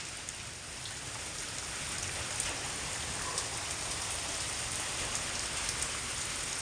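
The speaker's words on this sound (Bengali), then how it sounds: "খুব ঝড় বৃষ্টি হচ্ছে পুরুলিয়াতে।" Heavy storm rain pouring down in Purulia, a continuous close wash of hiss that holds steady and alone, with no voices.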